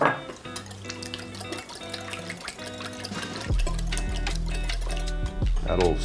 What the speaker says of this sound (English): Add my buttermilk.